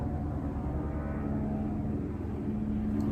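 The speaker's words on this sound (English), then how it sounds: "Oh, another helicopter." A helicopter flies over outdoors, a distant low droning rumble heard steadily and fairly faintly from inside, with no talking.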